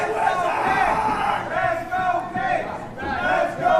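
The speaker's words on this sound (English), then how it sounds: "Now the fans getting behind Sebastian Cage, it sounds like" A wrestling crowd at an FSW heavyweight main event roars and cheers for the underdog, a loud sustained wall of voices with swelling shouts throughout.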